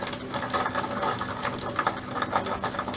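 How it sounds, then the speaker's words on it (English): A small electric grinder whirs steadily and loudly up close as it chops ingredients for banana bread, its motor running as one continuous buzzing drone with slight rhythmic pulsing and no voice over it. "If you hold it down, you just grind it and it cuts them into smaller pieces."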